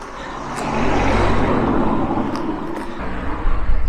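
Road traffic at Burford Bridge, a narrow bridge near Stowmarket, builds to a loud, close vehicle pass with a broad rushing whoosh that swells and slowly fades, and a second vehicle approaches at the end.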